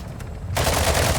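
Sudden burst of rapid gunfire from all sides erupts halfway through in Call of Duty: Modern Warfare II Warzone 2.0 DMZ, dense and continuous like automatic weapons firing close by, after a quieter start.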